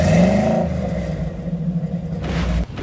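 Street rod engine at a Street Rodding American Style cruise to Coffeyville, Kansas, revving up close and loud with a deep rumbling throb, the rev rising and falling once before briefly settling.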